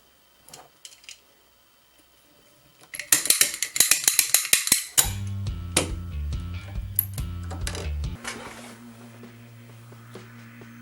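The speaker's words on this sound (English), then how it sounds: "If it doesn't open after a few snaps, increase the tension on the impact a little." A lockpick gun snaps against a door lock, giving a burst of rapid sharp metallic clicks and ratcheting, then heavier clunks and a low mechanical hum, all close-up and fairly quiet, with no voices.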